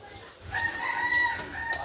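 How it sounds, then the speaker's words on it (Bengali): Chickens perched up in a tree crowing and clucking nearby in a village, a rooster-like call running through the middle with other fowl sounds, no talking. "দেখুন মুরগিগুলো বরে গাছে ঝুলে আছে কিভাবে"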